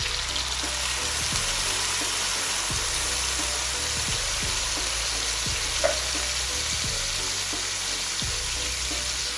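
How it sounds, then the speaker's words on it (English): Coconut milk simmers around steamed butter fish, Irish potato and cho cho in a pot, giving a loud, even, continuous sizzle and bubbling hiss with a few faint knocks underneath. "We're gonna add the coconut milk now."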